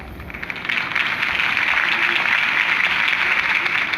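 A crowd applauds at a political campaign rally in Batman: The Telltale Series, a dense, steady wash of clapping that swells in after a quiet start and holds evenly at moderate distance.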